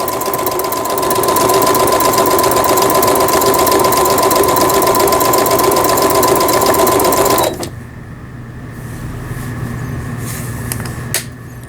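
A Brother Chariot 550 sewing machine runs a triple straight stitch with a loud, fast, even mechanical chatter close by, then stops abruptly, leaving a quieter hum with a few small knocks.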